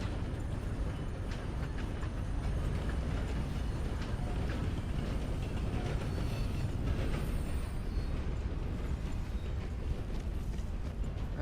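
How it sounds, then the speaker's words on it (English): A long train rolls past in the Red Dead video game, a steady, loud rumble with rattling wheel noise that holds unbroken for the whole stretch. "there goes your choo-choo train"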